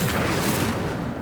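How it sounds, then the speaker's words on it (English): An Incendio fire spell is cast in Hogwarts Legacy, giving a loud, dense roaring whoosh of flame that fills the whole brief moment and fades slightly at the end. "Incendio."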